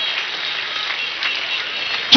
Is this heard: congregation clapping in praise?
yes